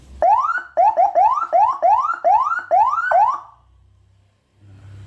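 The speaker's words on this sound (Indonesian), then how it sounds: "Ini untuk sirenenya, lampunya juga sudah menyala." Electronic siren on a GranMax ambulance sweeps upward in a rapid, repeating whoop, loud and close for about three and a half seconds before switching off to a low hum.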